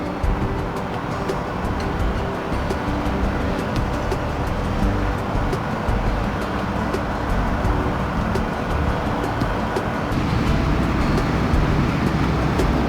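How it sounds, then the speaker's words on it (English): Road traffic rumbles and washes past continuously in an outdoor town setting, a steady broadband roar with vehicles passing at moderate distance and no gaps of quiet. "A lot of background noise here with the traffic on the road"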